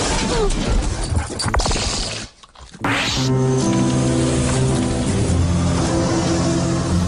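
A dog smashes through a glass house door in a TV commercial, a loud crash and shatter over busy music and background sound, followed by a brief drop and then continued layered sound.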